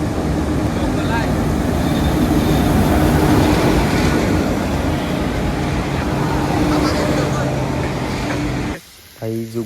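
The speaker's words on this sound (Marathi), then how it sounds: "ट्रेन बघा, ट्रेन बघा." A local commuter train rumbles past near a waterfall outside Khopoli, a loud, steady rolling roar with rail clatter for about nine seconds before cutting off, with people talking over it.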